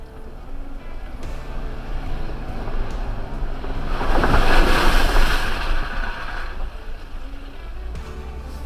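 An off-road vehicle splashes through a puddle on a trail at the Anthracite Outdoor Adventure Area, a rushing watery surge swelling midway over steady engine and wind rumble, then easing off.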